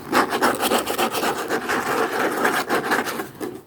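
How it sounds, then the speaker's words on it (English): A hardcover book scratched quickly and aggressively, giving a dense, continuous rasping texture with rapid rhythmic strokes, close and fairly loud throughout. "Hardcover book, scratchy."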